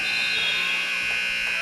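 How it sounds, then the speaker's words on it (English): A long, loud electronic buzzer drones steadily at the end of a quarter in a high school basketball game between St. Henry and Lloyd, with faint crowd noise underneath. "Schluter makes the jumper, but it's after the buzzer"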